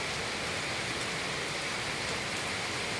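Steady rainfall patters densely on surfaces nearby, a constant even hiss with no breaks and no voices.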